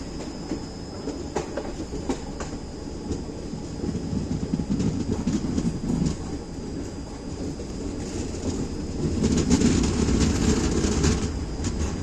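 Onboard the Ananthapuri Express between Chennai and Kollam, a steady rumbling ride with rhythmic wheel clatter and occasional metallic rattles fills the whole stretch, continuous and fairly loud.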